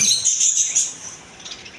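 Caged birds, including Australian doves, chirp and tweet in a busy, overlapping chorus of high-pitched calls at a bird shop, loudest at the start and thinning slightly toward the end.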